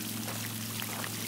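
Water spills from a basalt block stone fountain and splashes over its stone shelves, a steady close pouring and trickling wash that continues unbroken without a pause.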